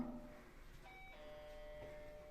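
A doorbell rings with a faint two-tone chime, the ding and dong tones ringing out softly one after the other in a quiet indoor space.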